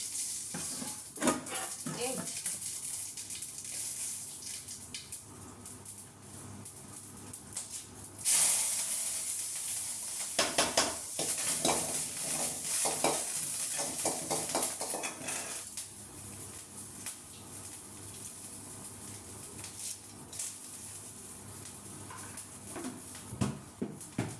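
Fenugreek and mustard seeds sizzle in hot oil for puli keerai rasam, a continuous crackling hiss that swells into a louder burst midway, with intermittent stirring clinks against the pan.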